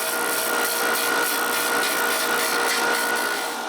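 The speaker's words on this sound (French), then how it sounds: "Je sable jusqu'à la marque la mèche de toupie a laissée" Wooden buttons sanded by hand, a continuous close rasping rub with an even back-and-forth rhythm, loud and steady with no voices.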